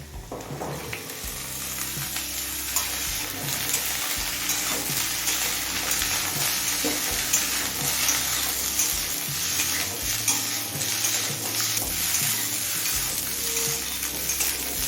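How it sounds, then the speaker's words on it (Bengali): Mixed vegetables including sweet potato, beans and brinjal fry in a pan for a pumpkin greens dish, a constant bubbling sizzle at moderate volume with occasional utensil clatter and stirring, no speech. "সব সবজিগুলো দিয়ে এক মিনিট মতো ভেজে নিলাম"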